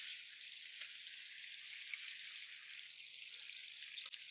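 Sea bass with miso glaze sears in a skillet, giving a faint, steady high hiss of sizzling oil with a few small pops, alone without talk.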